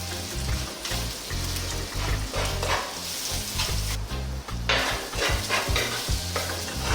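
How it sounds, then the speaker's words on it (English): Onions with crushed garlic and ginger fry above medium heat for a Sri Lankan tuna fish curry, a loud continuous sizzle with stirring and scraping noises rising and falling throughout, no voices. "We'll just cook those onions for like 3 or 4 minutes just so they kind of soften a little"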